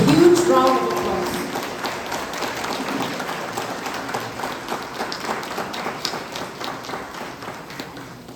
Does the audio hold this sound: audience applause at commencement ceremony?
yes